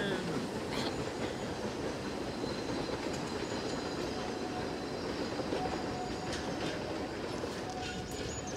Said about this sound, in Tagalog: May tren sa gilid ng bakuran.